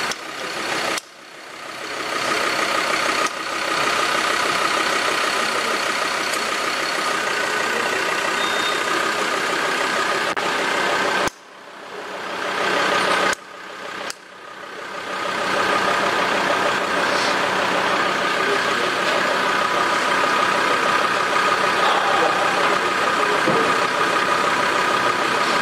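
A 1950s-era Austin Healey 100/4 engine firing and running steadily, a loud, continuous close-up drone broken by a couple of brief dips as it falters and catches again.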